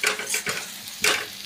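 A spoon stirs a wild leafy vegetable with crushed peanuts in an iron pan, making three or four quick scraping, sizzling strokes, close and clear with no talk.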